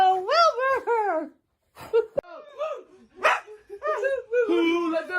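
A dog gives a run of yelping, whining barks and howl-like cries nearby, broken by brief pauses, with a sharp click in between.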